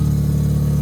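A Mazda RX-7 FC rotary engine idles steadily, a loud, close, even low burble with a fast regular pulse and no voices.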